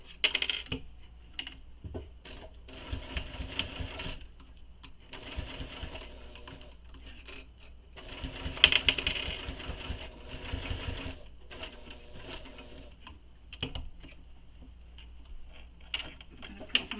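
Sewing machine top stitching a waist pack along a zipper flange, running in close bursts of rapid needle chatter separated by short pauses and small clicks, with no talking.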